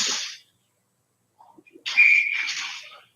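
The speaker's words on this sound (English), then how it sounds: "And we'll get a whistle here." A referee's whistle at an ice hockey game sounds loud and sustained over arena noise, after a brief rink clatter and a faint opening burst.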